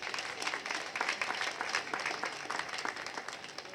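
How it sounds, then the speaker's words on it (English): Steady round of applause from an audience at a business event in Jamaica, dense and continuous, heard at moderate distance and fairly quiet throughout. "Please give them a round of applause."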